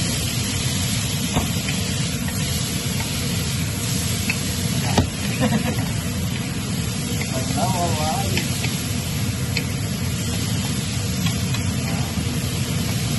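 Tomatoes fried golden brown in a pan are stirred, a steady bright sizzle running throughout with scraping stir strokes, while a person talks over the cooking.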